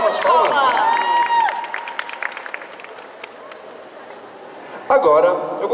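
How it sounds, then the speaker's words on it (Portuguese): A crowd applauds at a cosplay parade, with scattered clapping and cheering beneath an announcer's voice at first. The sound thins to a softer patter before voices rise again at the end. "Palmas, palmas, palmas."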